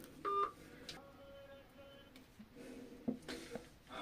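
A phone dials a call with a few short keypad tones, and faint ringing follows over a quiet background, alongside a person trapped underground inside a glass box.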